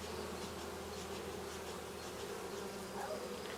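Saskatraz honey bees hum in a steady, dense buzz inside their hive, a faint, continuous drone with no voices.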